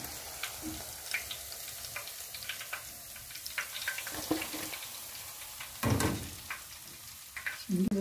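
Soda-battered mushrooms frying in a pan give a quiet, steady crackling sizzle, with occasional louder spatters and clinks from handling, and no voices.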